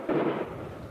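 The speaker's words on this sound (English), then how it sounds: "we're hearing gunshots over there" A single distant gunshot echoes near the Ukrainian border during a fragile ceasefire, a brief muffled boom with a rolling tail fading over about a second, no voices.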